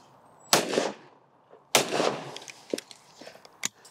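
Two loud, sharp blasts from a side-by-side shotgun fired at clay targets outdoors, each followed by a decaying echo, then some fainter clicks and handling noises.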